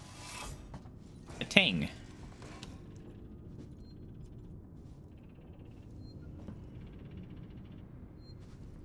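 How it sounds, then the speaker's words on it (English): A short burst of mechanical clicking from a printer-like device in Alien: Isolation, loud and brief early on, then fading into a low ambient hum with faint tones. "Oh, it's a printer sound. Like, I hear that weird clicky noise."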